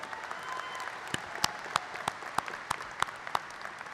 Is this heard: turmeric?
no